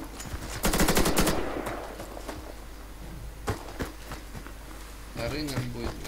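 Automatic gunfire in an online shooter match, a loud close burst of rapid shots followed by scattered single shots and more distant bursts, with a player talking over it.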